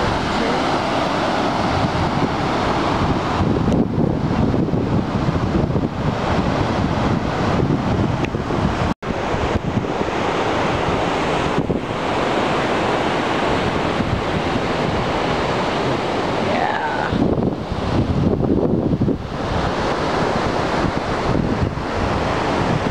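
Surf rolls onto a beach under strong wind that buffets the microphone, a constant loud roar with surging waves and no talk.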